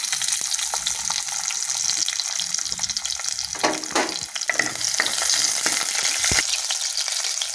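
Loud, continuous sizzling and crackling of chopped shallots frying in hot oil with mustard seeds for tomato rasam, with occasional stirring scrapes and pops close by.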